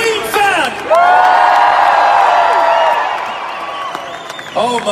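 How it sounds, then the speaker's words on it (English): A packed crowd at Wembley's SSE Arena for the 2018 London world premiere of Bohemian Rhapsody, made up of Queen fans, erupts in loud, sustained cheering and whooping that swells then slowly eases before a voice cuts back in. "Give me a cheer if you're a Queen fan!"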